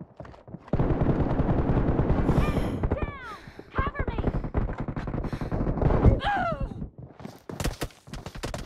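Gunfire in the mobile battle royale game BGMI: loud rapid bursts of shots and game sound effects fill the scene, while voices talk and call out over the action.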